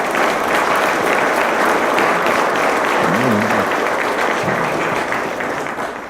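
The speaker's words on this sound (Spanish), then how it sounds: "por favor, un aplauso para ella" An audience at a public forum applauds a singer, a thick, steady roar of clapping lasting the whole stretch, with a brief murmur of voices partway through and a slight fade at the end.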